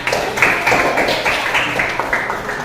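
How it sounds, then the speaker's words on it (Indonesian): A classroom of students applauds their classmates after a presentation, with dense overlapping hand claps that swell in uneven bursts, close and moderately loud, and no voices on top. "Maka berikan tepuk tangan ya kepada"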